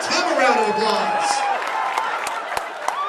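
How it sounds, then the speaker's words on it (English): A live comedy audience at a dating-game skit breaks into applause and cheering, with a few sharp individual claps standing out. A voice carries on over the crowd noise. "Give Tim a round of applause."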